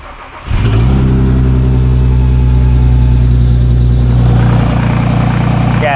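A Nissan Skyline R32 with a poorly welded, leaking downpipe starts up: a brief cranking burst, then the engine catches and settles into a loud, close, steady idle with a deep rumbling tone.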